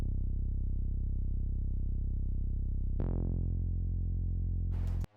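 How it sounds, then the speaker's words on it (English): A deep, sustained synth bass tone holds steadily, shifts to a new note partway through, then cuts off abruptly. "Then next I've got this sub bass"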